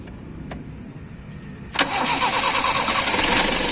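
A Honda K-series car engine cranks briefly and catches after a quiet stretch with a faint click, then settles into a steady close idle that holds to the end.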